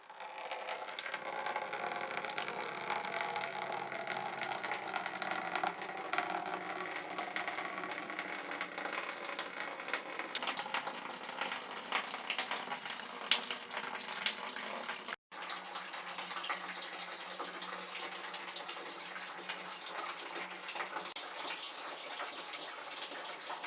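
Hoegaarden wort, the first runnings, drains into a bucket in a steady, loud, unbroken gush of liquid that runs for over twenty seconds, with one brief cut near the end.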